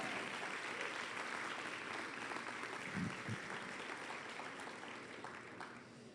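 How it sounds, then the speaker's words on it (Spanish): A church congregation applauds steadily, a dense even wash of many hands clapping that holds throughout and eases slightly toward the end. "¿cómo no se dan a sí mismo un aplauso por lo que Dios está haciendo aquí?"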